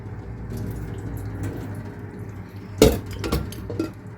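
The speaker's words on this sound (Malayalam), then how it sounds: "നമ്മൾ ഇവിടെ കുക്കറാണ് എടുത്തേക്കുന്നത്" A metal pressure cooker handled in a home kitchen, with a sharp clank of metal on metal and a few lighter knocks over a faint background hum.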